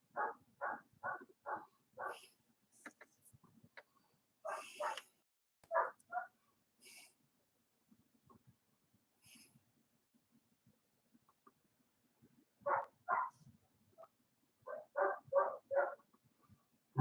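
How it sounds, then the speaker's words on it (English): A German Shepherd barks close by in quick bursts of four or five sharp barks, with quiet pauses and a few scattered softer noises between the volleys. "You wouldn't think that a German Shepherd would be so whiny"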